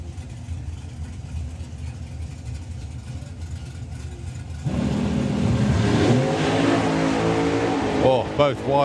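Drag racing cars, the Dolly Daydream Dragster and Mark Bailey's Barracuda, launching off the start line at Springspeed Nationals: a low idle rises abruptly into loud, rising engine roar, with an announcer talking over it.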